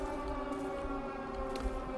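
An air raid siren wails in a horror video game, a steady droning tone sounding alone for a couple of seconds.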